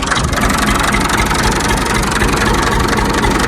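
A tractor engine idling, a steady loud diesel drone with an even low throb, close and continuous with no talk.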